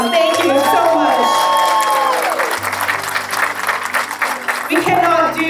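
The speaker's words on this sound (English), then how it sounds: "Let's give them a big round of applause." Crowd applause and cheers ring out for sponsors at an outdoor Mother's Day breast cancer walk, loud and sustained throughout, with music and voices mixed in beneath.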